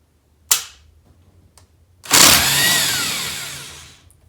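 An impact wrench zips briefly on a 13mm bolt holding a Jeep Wrangler JK steering wheel, a short sharp burst followed by a louder whirring rattle lasting about two seconds, close up.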